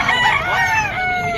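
A rooster crows at a rooster sale at a holiday pet market, one drawn-out crow filling the whole short stretch, loud and close with nothing else competing.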